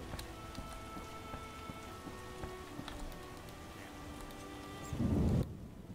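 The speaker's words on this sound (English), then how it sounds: "Oh, it'll rain a while." Steady rain patters densely on a surface in The Witcher video game, with a brief low rumble of thunder swelling near the end before cutting off.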